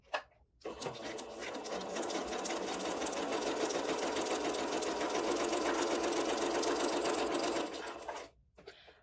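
Domestic sewing machine running a short, tight stitch, a steady fast mechanical whirring and needle rattle that starts abruptly, holds evenly for about seven seconds, then stops, heard close and alone.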